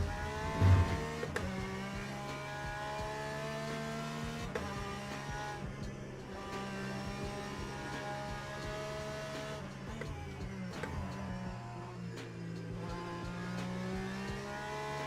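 A Porsche race car engine in the racing sim Le Mans Ultimate drones steadily and loudly throughout, with its pitch dipping and climbing between shifts.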